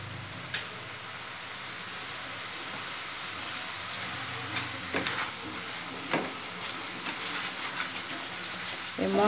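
Spice paste with cumin powder fries in a pan for an egg and cauliflower curry, a steady close sizzle with scattered pops and ticks throughout.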